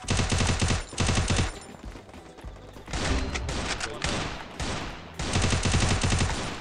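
Rapid bursts of automatic gunfire from a video game, loud and dense, coming in several volleys with brief gaps between them.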